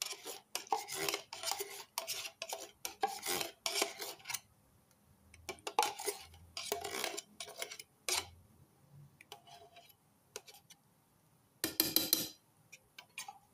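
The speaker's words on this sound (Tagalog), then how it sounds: "Yan, haluin natin ng haluin." A spoon stirs and scrapes no-oven cake batter made with Fuji bar and waffle in a large container, giving irregular clusters of light clinks and taps, close and fairly quiet, with short pauses between bursts.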